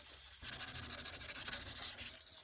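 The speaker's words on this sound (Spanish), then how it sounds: "Seguidamente le damos con el estropajo o la lija." Steady, rhythmic scrubbing of a scouring pad against a PVC pipe being prepared for repair, a rapid back-and-forth rasp that starts after a brief pause and runs on without voices.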